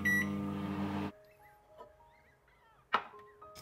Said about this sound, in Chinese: 微波炉加热一下啊